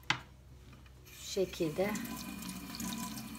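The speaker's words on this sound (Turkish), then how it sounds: "Tozu gitsin diye suyun önünde bir şöyle yıkayacağım." Freshly picked thyme sits in a colander and is rinsed under a running tap, a steady rush of water starting after a brief spoken phrase and continuing to the end.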